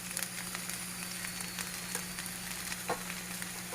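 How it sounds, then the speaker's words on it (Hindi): Spices being stirred into mixed vegetables in a pan for Sindhi-style masala sabzi, a steady close sizzle with scattered scraping clicks of the spoon, no talking. "इसके बाद हम इसको अच्छे से मिक्स करेंगे।"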